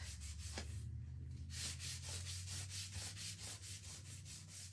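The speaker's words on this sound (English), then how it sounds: "I love my little sander, but these little pieces of sandpaper are not cheap" A small electric sander works across a piece of kit wood, giving a steady buzzing motor hum under a rhythmic, repeated rubbing rasp of sandpaper, close and continuous.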